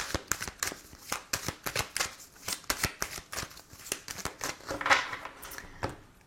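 Oracle cards being shuffled by hand, a quick run of crisp riffling flicks and taps close up, steady and rhythmic throughout with no voice.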